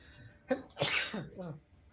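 A single sharp sneeze bursts out close and loud, with a brief breathy lead-in and a trailing exhale, heard during a Warframe gaming session.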